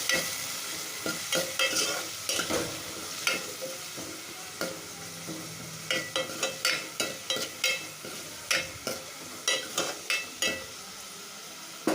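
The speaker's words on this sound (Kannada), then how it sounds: "ನೆಕ್ಸ್ಟು ಟೊಮೊಟೊ ನೋಡಿ, ಅದ್ರ ಜೊತೆಗೆ ಕರಿಬೇವು ಹಾಕ್ಕೊಂಡು ಫ್ರೈ ಮಾಡ್ಕೊಳ್ತೀನಿ" Chopped tomato and curry leaves frying in a pan for rasam, a steady sizzle broken by a quick series of sharp scraping and tapping strokes as the mixture is stirred.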